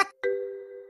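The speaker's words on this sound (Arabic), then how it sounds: "خلاص يبقى نجرب كده. هوبا، نغمة سليمة." A phone ringtone being tested during a children's church stage play: a short click, a brief gap, then a steady, sustained electronic tone ringing clearly on its own.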